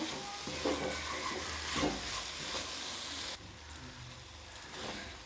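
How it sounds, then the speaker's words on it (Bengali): A spice paste of onion, garlic and ginger with slit green chilli is stirred and fried in a pan, a constant close sizzle with scraping stirs over it; the sizzle drops a little partway through, and no one speaks. "যতক্ষণ না পেঁয়াজ রসুনের কাঁচা গন্ধটা যাচ্ছে আদা রসুনের ভালো করে আমি মশলাটাকে কষিয়ে নেবো"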